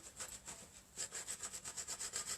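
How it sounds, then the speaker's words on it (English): A wooden porch sign is rubbed down by hand with steady back-and-forth strokes, a rhythmic scratchy rasp that quickens after a brief pause and repeats about ten times up close, with no talking. "So I'm just going to rub it down."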